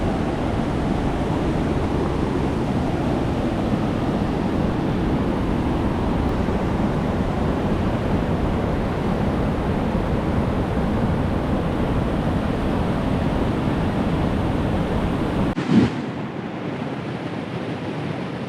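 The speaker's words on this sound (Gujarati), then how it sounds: "અહીંયા પહોંચતા હોય વેત તમને જે નદીના પ્રવાહનો અવાજ સંભળાય" Steady, full rushing of a river flowing close by at Padam Dungri, continuous throughout with a brief bump near the end.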